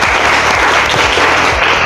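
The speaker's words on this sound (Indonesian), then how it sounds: "Beri aplaus kepada saudara Upli ya." A classroom of students applauds a fellow student in a continuous burst of clapping, close and steady throughout, with no voices rising above it.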